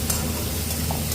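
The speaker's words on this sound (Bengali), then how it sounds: "এখন আমি শাকটা দিয়ে দেবো" Greens going into a pan of frying tomatoes and curry leaves for a South Indian saag, with a steady close sizzle, stirring and a few scraping clinks.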